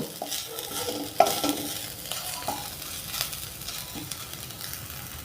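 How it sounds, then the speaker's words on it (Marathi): Grated ginger sautéing in a pan for a vegetable ragi soup, a steady soft sizzle with the occasional scrape and clink of a spoon stirring against the pan, heard close up without talk. "यालाही थोडं परतून घेऊयात सूपमध्ये आल्याचा स्वाद छान लागतो"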